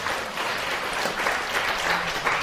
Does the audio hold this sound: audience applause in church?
yes